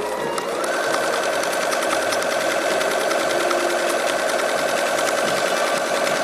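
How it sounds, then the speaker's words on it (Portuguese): Sewing machine stitching a toiletry bag's fabric from one edge to the other, a loud, close, continuous rapid whir with a fast pulsing rhythm and no talking. "então agora vamos cozer de uma ponta à outra, rematando no início e no fim"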